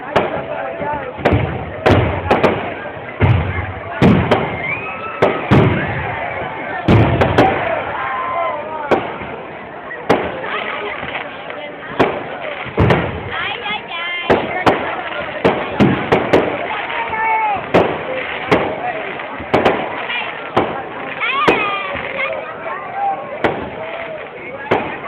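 Fireworks burst in rapid, irregular succession for about twenty-five seconds, loud cracks and booms piling on one another, with people talking underneath.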